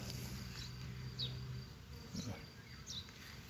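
Honeybees buzz steadily up close around flowers, a low droning hum with insects passing by now and then; no voices.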